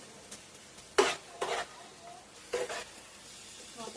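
Masala paste for a soybean curry is sautéed in oil. A low, steady sizzle runs under a few distinct scraping stir strokes of the spoon against the pan.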